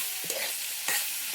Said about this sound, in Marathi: आणि चांगलं आपण परतून घेऊया.